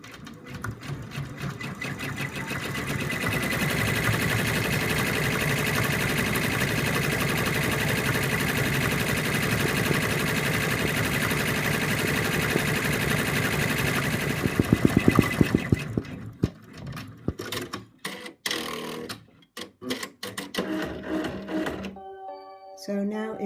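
An embroidery machine stitches a small gold star on a Christmas bird in-the-hoop design, a rapid, steady mechanical chatter for about fifteen seconds, then stopping and giving way to sparse clicks and handling sounds.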